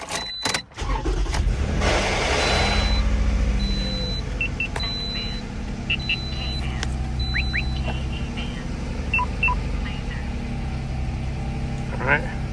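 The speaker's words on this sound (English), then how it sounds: "First, just going to see if the car starts up" A Toyota RAV4 with a P0121 pedal sensor fault cranks and starts after a loud initial thump, settling into a steady near idle, with chime beeps and a voice speaking over it.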